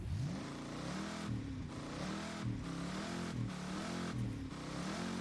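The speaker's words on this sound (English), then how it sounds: "listen to that engine." A car engine in Forza Horizon revs up and down in repeated surges, loud and close, with brief dips between rising gear pulls and no voices.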